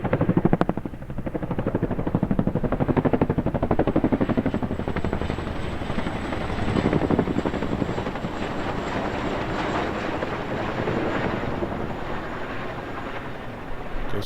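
A firefighting helicopter dropping water or fire suppressant over the Los Angeles wildfires, its rotor chopping in a fast, steady rhythmic beat throughout, loud and close with no voices.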